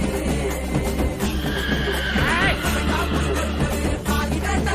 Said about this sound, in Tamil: கருப்பரு வெள்ளை குதிரை மேல வராரு.